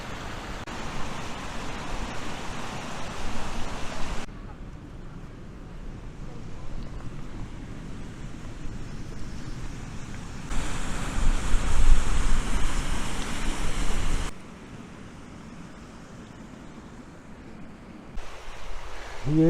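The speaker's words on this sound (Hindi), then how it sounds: "पानी बह रहा है" Mountain stream water rushing beside a hillside walking path at Grey Mare's Tail near Loch Skeen, Scotland, a broad steady wash that swells louder in stretches and drops back in between, mixed with wind buffeting the microphone.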